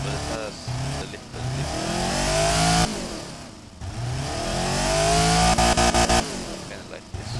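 Engine revving in the Automation car-building game, a sports car engine rising and falling in pitch through two long throttle sweeps, loud and steady, ending with sharp rapid blips.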